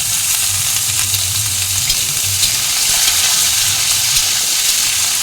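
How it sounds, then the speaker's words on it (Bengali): Chopped squash and potato fry in a pan with a loud, continuous close-up sizzle that holds steady and even throughout, with no talking. "কোয়াশ আর আলুটা একটু ভাজা ভাজা করে নেব।"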